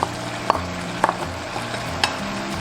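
Spatula pushing fish pieces with garlic sprouts and red pepper chunks in a pan, soft periodic scraping strokes about every half second over a low steady sizzle, close and alone.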